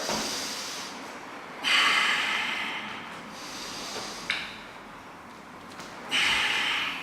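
Slow, deep breaths are held through a yoga pose, long hissing inhales and exhales rising and falling in a steady rhythm, close and fairly loud, with no talking.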